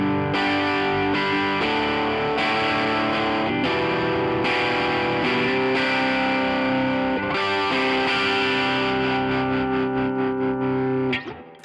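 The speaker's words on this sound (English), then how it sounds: "And so today, the guitar sound sounds like this." An electric guitar is reamped through effects pedals and an amplifier, giving a thick, distorted and chorused sound. Sustained chords and notes change every second or so, loud and alone, and ring off at the end.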